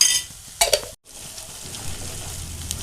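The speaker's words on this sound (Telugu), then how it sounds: "చూడండి ఎంత బాగా ఫ్రై అయిందో." Onion and ginger paste frying in a pan for a cashew curry, heard as a close, steady sizzle with brief scraping stirs of a utensil and a momentary cut in the sound.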